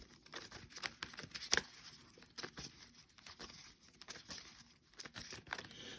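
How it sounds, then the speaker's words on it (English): A tarot deck that resists being shuffled, handled quietly: faint, close papery rustles and crinkly scrapes with one sharper snap near the start, and no voice. "Not this deck not wanting to shuffle"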